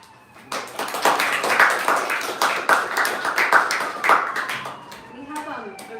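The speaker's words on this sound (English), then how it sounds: "just a big round of applause to thank Hari Vilas for coming and speaking" A modest temple audience gives a round of applause after a talk, with separate, fairly close claps in an uneven rhythm that swell, then thin out toward the end.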